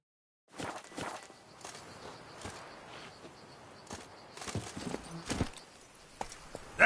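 Horse hooves of Roach in The Witcher video game, a steady clip-clop of footsteps at a walking pace, fairly close, with scattered louder hoof strikes and no talking.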